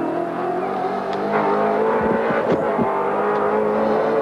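A Holden VN Commodore touring car engine at Bathurst drones loudly and steadily, a sustained, rough mechanical roar with small shifts in pitch as it runs, close and dominant throughout.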